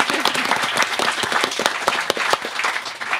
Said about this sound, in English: There, a little clap.